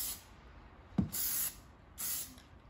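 Two short hissing bursts of spray paint on a car emblem during a DIY black-out, each lasting about half a second, close and fairly quiet, with a small knock just before the first.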